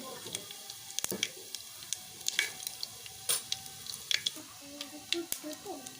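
Mustard seeds and cumin crackle in hot oil for mango rice, a soft sizzle broken by scattered sharp pops and a few louder spits, close and steady with no talk.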